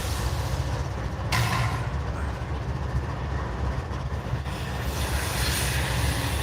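A Norfolk Southern freight train rolls past trackside as a steady, heavy low rumble of wheels and cars, loud and continuous throughout the clip.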